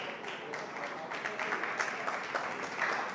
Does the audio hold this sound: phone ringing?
no